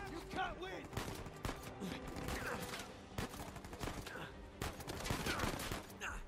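Gunfire from enemies shooting at the player in the video game Uncharted 4, a dense fusillade of repeated shots that stays loud throughout, with game sound effects and some speech mixed in.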